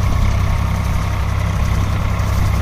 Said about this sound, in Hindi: फिर चला दिया भाई नीचे से कटर,